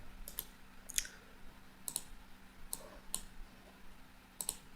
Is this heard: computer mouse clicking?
yes